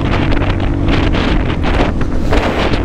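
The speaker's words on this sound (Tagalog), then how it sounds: "Lakas ng hangin." Heavy wind roar pounds the microphone on a motorcycle ride from Baguio to Manila in cool mountain air, a dense, constant rushing blast with low buffeting that fills everything, loud and close with no speech over it.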